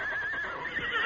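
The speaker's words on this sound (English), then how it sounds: "Hey, a horse is nearby." A horse lets out a loud, close whinny that holds steady through the whole brief moment, with no talk over it.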